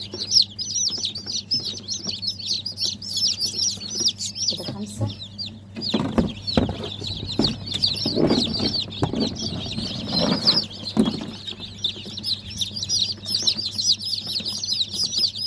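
A large batch of about a hundred baby chicks keeps up a dense, continuous high peeping. Adult hens cluck and rustle nearby, growing louder in the middle of the stretch.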